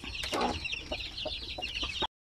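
Brooding hens kept with young chicks cluck in a series of short, close, repeated calls over a busy background of chick peeps, ending abruptly.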